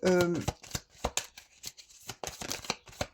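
Tarot cards are shuffled and drawn in a quick series of close, crisp riffling bursts and soft slaps, with a voice speaking briefly at the beginning.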